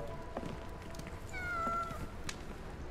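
A single drawn-out cat meow rises over low ambient game background in Sherlock Holmes The Awakened, set around the London docks; the call is clear but moderately distant, with no talking.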